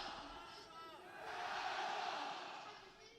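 An esports arena crowd at VCT Masters Shanghai swells into cheering and shouts, the roar rising and then fading, heard faintly under a caster's voice.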